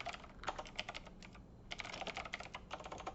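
Quick bursts of computer keyboard typing, close and light, with clustered key clicks, a short pause, then another run of keystrokes.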